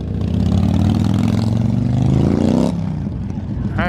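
Several car engines from a car meet, including a Camaro ZL1, rev and pull away nearby, a loud rising drone that drops off sharply near the end, with voices faintly under it.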